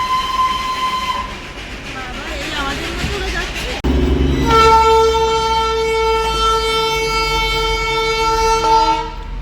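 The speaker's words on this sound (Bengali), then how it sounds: "এটা স্টিম ইঞ্জিন হ্যাঁ স্টিম ইঞ্জিন এটা" A loud, sustained whistle from a coal-fired steam locomotive of the Darjeeling toy train sounds over rumbling engine and wheel noise, nearby, with rail clatter before it.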